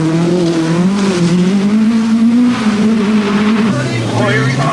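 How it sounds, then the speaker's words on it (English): A Vauxhall Chevette rally car races fast along a stage of the 1983 Lombard RAC Rally, its engine note rising and falling loudly throughout, with a commentator talking over it. "Russell Brooks driving a home make, a Vauxhall Chevette."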